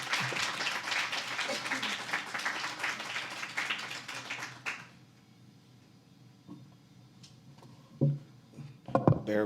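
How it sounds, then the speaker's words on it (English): An audience applauds a storyteller at an early childhood leadership fellowship event, dense clapping for about five seconds before fading into a quiet room with faint movement and a few knocks. "Let's give our final storyteller, Lawrence Witherspoon, a huge round of applause"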